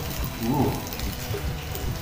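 Steady rain falls outside in the background, a soft continuous patter with a few slightly louder drops, faint and unbroken throughout.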